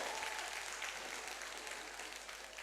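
An audience applauds at a televised dance competition round, a steady wash of clapping held at an even level throughout, fairly faint and distant, with no voices above it.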